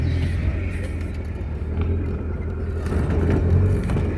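A Jeep rock crawler driven with no windows gives a steady low engine rumble and road noise from inside the cab, continuous and moderately loud, with no talk.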